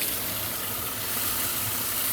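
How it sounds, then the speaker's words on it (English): Warm water runs steadily from a tap during a motorcycle's 10,000-mile service, a constant broadband hiss and splash close by at even loudness, with no voices. "Get some warm water going."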